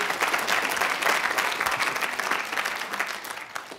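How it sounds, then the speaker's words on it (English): An audience at a live comedy event breaks into steady, dense applause for Neil, a full crowd clapping loudly and continuously with a few cheers mixed in, holding strong throughout before easing slightly at the end. "Give Neil some applause for getting up here."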